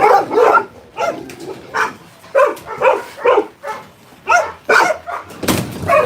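A good-looking dog at an animal sanctuary barks repeatedly and loudly up close, a string of sharp yips and barks in an irregular rhythm.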